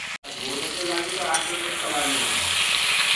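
Loud, close sizzle of black cumin seeds and dried red chillies tempering in hot oil in a home kitchen, a steady crackling hiss with a faint voice briefly under it.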